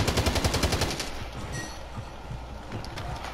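Rapid automatic gunfire in a video game shooter, a loud fast burst for about the first second, then fading into softer scattered shots and rumbling background noise.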